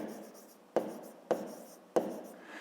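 Pen strokes writing a digit by hand during a fifth-grade maths exercise: three sharp, close taps spaced about half a second apart over a faint background hiss.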